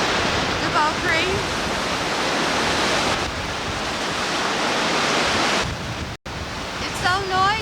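A waterfall near Beaupré, Quebec roars loud and steady from close by, a dense broadband rush with spray and wind buffeting, and brief chirpy voices break through near the end.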